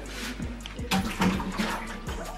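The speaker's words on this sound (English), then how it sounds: "we're using water to wipe off the wall" Water sloshes and splashes in brief, uneven strokes as a wall is wiped down with water in a small room being renovated after a house fire in Jamaica.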